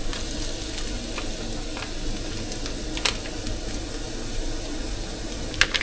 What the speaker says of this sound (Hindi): अब हमें जो प्याज हैं इनमें हम इस करी पेस्ट को डालते हैं।